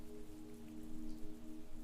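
Steady heavy rain pours down over a river path and fields, a dense continuous hiss of drops with low rumble beneath, no voices.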